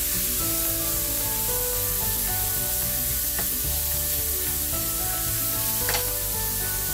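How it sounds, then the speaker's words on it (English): Marinated steak for a Philly cheesesteak fries in a pan with a loud, continuous close sizzle, punctuated by occasional soft stirring clinks, and no voices. "And we're going to add the marinating steak. We're going to cook it."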